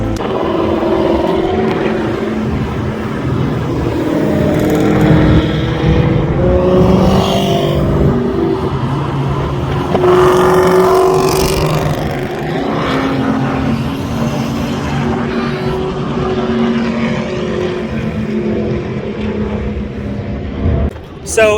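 Cars running on the Texas Motor Speedway track during a car show and racing event, a loud continuous engine drone with rising and falling passes, and people talking over it throughout.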